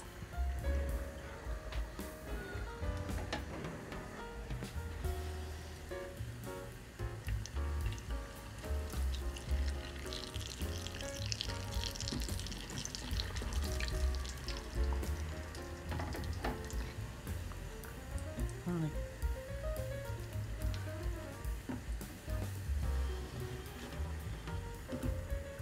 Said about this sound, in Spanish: el aceite ya es ideal para echar nuestras papitas a freír